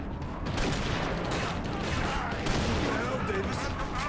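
Shotgun fire in the video game Inversion, a dense burst of loud blasts and rumbling impacts that fill the short stretch without a break.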